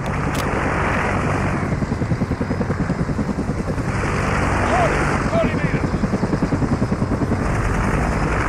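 A helicopter in the Call of Duty video game drones steadily for the whole stretch, a loud, continuous rotor throb with shouted voices layered over it.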